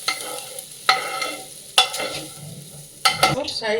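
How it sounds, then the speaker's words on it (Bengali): Crackling sizzle as an egg tadka is poured into dal in a pressure cooker, with three sharp bursts of hissing, close and moderately loud, no voices. "ডালের মধ্যে ডিমের তরকাটা লাগিয়ে দেবো"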